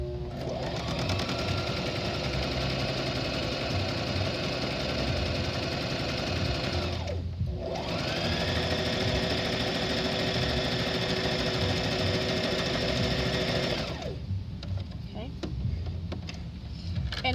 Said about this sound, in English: going to show you what it looks like now when I do it with that foot